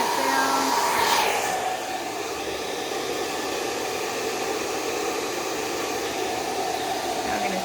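Hair dryer switched to its cool shot while blow-drying hair, a loud, steady close-up whoosh of rushing air with a whining motor tone, easing slightly in pitch and level after the first couple of seconds.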